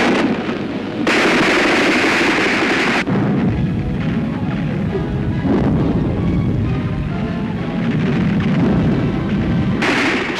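Grenades burst during the 1944 street fighting for Tarnopol, heavy booming blasts and rumbling concussions layered over a continuous roar of battle noise, loud and close throughout.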